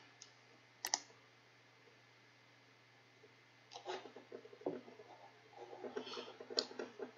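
Computer mouse clicking close up, a sharp single click near the start followed by a run of faint clicks and light tapping later on, in an otherwise quiet room.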